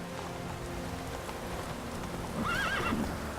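Roach the horse in The Witcher 3 lets out a rising whinny near the end, over steady rain and hoof clip-clop in the game's outdoor scene, with no talk.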